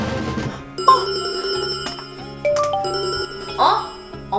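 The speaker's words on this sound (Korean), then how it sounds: "엄마 벨소리인데 어딨니?" A mobile phone ringtone plays a melodic electronic tune of bright repeated notes, fairly close, with brief voices and bumps now and then.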